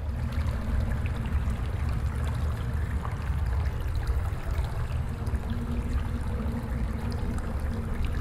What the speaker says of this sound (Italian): Si sente l'acqua.